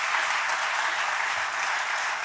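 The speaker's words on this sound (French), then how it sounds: "On peut applaudir ça." An audience at a Quebec awards evening applauds steadily, a dense wash of clapping hands with no voices over it.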